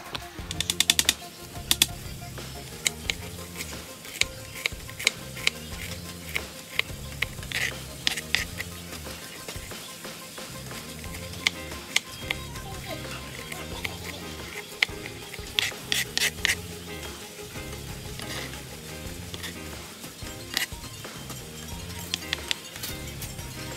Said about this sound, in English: I'm over here chopping these onions, baby.